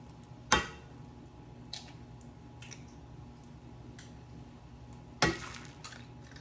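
Eggs cracked into a pan on a home stovetop: two sharp shell knocks several seconds apart, with small clicks and soft kitchen handling in between, close and fairly quiet.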